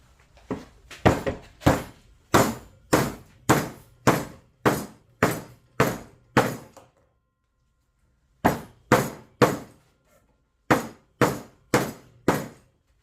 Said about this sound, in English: Trying to cut through a knot. I mean, this is about as hard as you could possibly want to hit a folding knife, right?